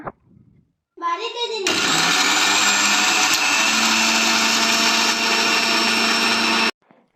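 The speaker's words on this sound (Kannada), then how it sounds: "ಕಾಯಿ ಇಷ್ಟನ್ನು ಹಾಕಿ ರುಬ್ಕೋಬೇಕು. ಫಸ್ಟು ನೋಡಿ ಎಲ್ಲ ಜಾರ ಒಳಗಡೆ ಹಾಕ್ತಿದ್ದಾರೆ. ಸೊ ಇವಾಗ ರುಬ್ಕೊಳ್ಳೋಣ" A kitchen mixer grinder whirs loud and steady as it grinds grated coconut, dried red chillies and garlic in its jar. After a brief start-up it holds a constant roar for about five seconds, then cuts off abruptly.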